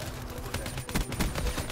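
Bursts of automatic gunfire aimed at a turret in the shooter Black Ops III, quick sharp shots in rapid succession at moderate loudness.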